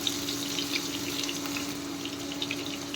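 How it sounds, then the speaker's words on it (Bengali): Brinjal (eggplant) pieces frying in oil in a pan for sukto, a continuous close hiss and sizzle with faint crackles, no talking. "দেখেন বেগুন ভেজে নিচ্ছি"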